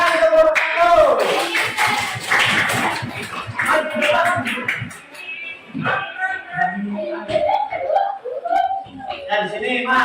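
Classroom applause for a student group, a burst of clapping at the start that fades into children's chatter and voices talking over it.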